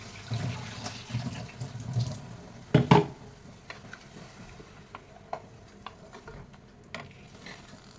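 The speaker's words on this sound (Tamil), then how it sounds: "கொஞ்சமாக தண்ணி ஊற்றிக்கலாம்." Water pours and splashes into a pan of snake gourd curry for a few seconds, then stops, leaving quiet clinks and faint kitchen sounds.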